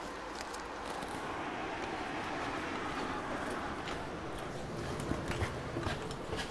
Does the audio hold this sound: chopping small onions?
no